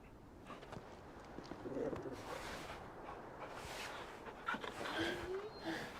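Torgal, the loyal dog companion in Final Fantasy XVI, pants and whimpers softly and steadily against a dense game backdrop, with brief louder breaths in the middle and near the end.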